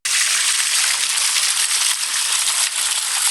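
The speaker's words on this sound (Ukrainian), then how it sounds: "Зараз фонтан працює в тестовому режимі." A city fountain in a children's park runs with a dense, continuous rush of splashing water, loud and close, with no voices.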